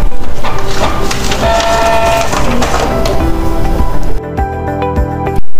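A Canon Pixma G4010 printer whirs and clatters through a printing pass, printing EEPROM data, loud and mechanical with rhythmic feed noises, then drops to quieter clicks near the end.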